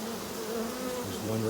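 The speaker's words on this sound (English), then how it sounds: "He's a drone climbing over the frames here." Honey bee drone buzzing while climbing over hive frames, a steady close insect drone with wavering pitch and the hum of other bees around it.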